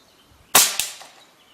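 A single close air rifle pellet shot fired at a rabbit field target about 29 yards away, with a sharp crack and a quick second snap from the impact, then a brief fading tail.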